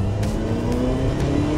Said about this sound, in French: C'est le son Ferrari typique.